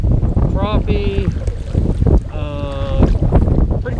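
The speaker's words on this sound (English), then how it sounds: "As you can hear, it's a little bit windy today" Steady wind buffets the microphone on a lake during kayak bass fishing, a constant broadband rush running through the whole stretch, with brief tonal calls or squeaks rising above it near the start and middle.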